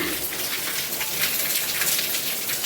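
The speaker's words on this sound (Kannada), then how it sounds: "ಕರೆಕ್ಟಾಗಿ ಮಳೆ ಬಂತು ನೋಡಿ" Heavy rain pours steadily outside a home, a dense, even hiss of drops on surfaces close by that holds without a break and with no voices.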